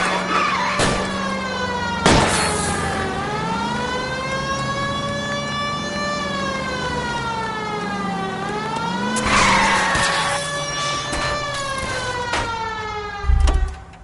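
Car chase in the 1940s Los Angeles game L.A. Noire: a loud, sustained engine roar with long rising and falling tire squeals, several sharp skid bursts and a rough impact near the end, with a siren wailing underneath.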